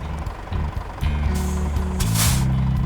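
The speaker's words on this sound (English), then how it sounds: "Driving a Scania." A Scania truck in Euro Truck Simulator 2 hauls a pressure tank through wintry Finland toward Pori, its diesel engine droning steadily up close, with a sharp air-brake hiss bursting out near the end.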